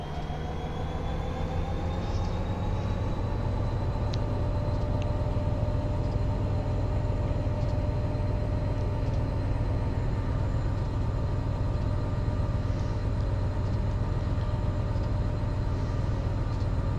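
A Union Pacific SD70ACe diesel locomotive in Train Simulator 2020 throttles up on the Granger Heartland route, a steady loud engine drone with rising tonal whine and continuous rail rumble, no talk.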